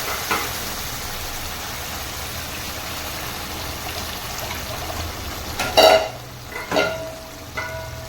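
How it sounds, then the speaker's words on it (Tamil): Ground masala poured into an elephant yam curry and stirred, a steady soft sizzling and scraping texture throughout with a few louder clatters of the spoon near the end. "நம்ம அரைச்ச மசாலா ஊற்றிக்கலாம்."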